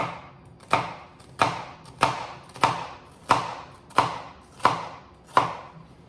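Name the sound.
knife slicing food on a cutting board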